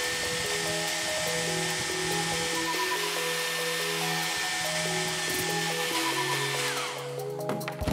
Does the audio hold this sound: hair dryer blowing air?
yes